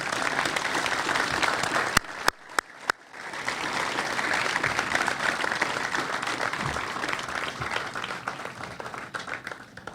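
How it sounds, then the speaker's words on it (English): Crowd applause at the Freedom Memorial dedication ceremony, a sustained outdoor round of clapping that fills the whole stretch, briefly broken by a few sharp gaps near the start before swelling back to steady, dense applause. "Would you all please kindly give them all a round of applause?"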